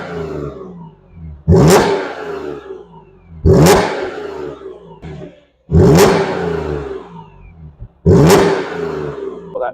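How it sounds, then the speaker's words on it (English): An unmodified Audi S4 Avant engine revs hard four times, each burst a sharp raspy exhaust roar that decays into a lower idle before the next, close and loud. "That really distinctive rasp from the exhaust from a V8."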